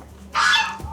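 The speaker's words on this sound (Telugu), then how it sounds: "ఇక్కడ చికెన్ కోసం అమ్ముతున్నారు. ఇవి నాటుకోళ్ళు." Country chickens for sale at a market in Nagaland give a single short, close, loud cluck or squawk.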